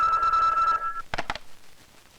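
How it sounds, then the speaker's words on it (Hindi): Telephone ringing in an office scene from an 1980s Bollywood Hindi film, a steady bell-like ring for under a second followed by two short bursts, with background sound underneath. "रिपोर्टर राकेश का फोन है।"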